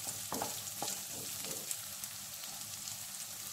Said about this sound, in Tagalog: So dito sa isang kawali, magisa tayo dito ng bawang. Siyempre lagyan muna natin ng mantika.